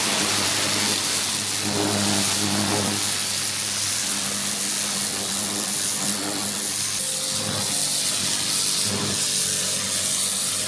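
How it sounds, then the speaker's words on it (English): A V-TUF pressure washer fitted with a rotary turbo nozzle cleans wooden decking, giving a loud, steady hiss of spraying water over a constant motor drone throughout. "you can definitely see a huge difference with using that rotary nozzle, that turbo nozzle there to clean the decking"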